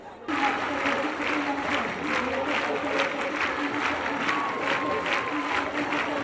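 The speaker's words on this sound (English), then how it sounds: "Clapping for Jesus, the Phaneroo International Ministries congregation is breaking the record" Steady, sustained applause from a large church congregation in a packed multipurpose hall in Uganda, part of a Guinness world record attempt for longest applause; dense continuous clapping with crowd noise and no break.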